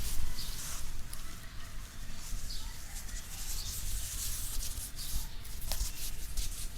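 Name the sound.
soft ball rolled along a forearm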